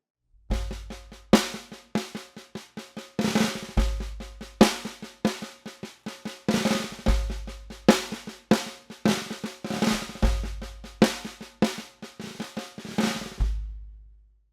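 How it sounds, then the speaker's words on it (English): A snare drum struck in a slow, even pattern of single sharp hits playing a paradiddle variation sticking, each ringing briefly before the next, played alone and fairly quiet. "So this sticking played slowly on the snare drum will sound like this."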